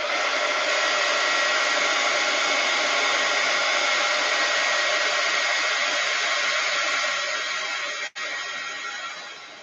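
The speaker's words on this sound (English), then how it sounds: "So I'm going to heat tool it" A craft heat tool blows hot air over a handmade project, producing a loud, steady whooshing hum close to the microphone that runs almost unbroken before being briefly clicked off and back on near the end.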